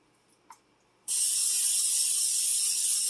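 After a brief quiet and a small click, a can of cooking oil releases a loud, steady hiss of spray into a Dutch oven that continues without pause.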